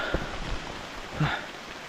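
Steady rain falls in a forest during the rainy season as a continuous close hiss of drops with soft irregular patters and a brief thud, with no talk.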